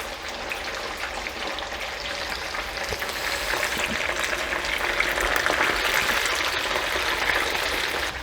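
French fries frying in hot oil, a continuous crackling, bubbling hiss that swells slightly louder midway, steady and close with no voices.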